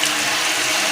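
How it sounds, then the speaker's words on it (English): Homemade keto cheese (paneer) is rinsed under a running kitchen tap: a loud, steady, close rush of water with no pauses or voices. "I'm going to wash it under the water"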